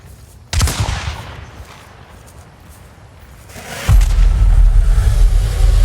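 Gunfire and explosions in the video game Hunt: a sharp loud blast near the start, a quieter lull, then a second heavy boom that leads into sustained rumbling, close and forceful.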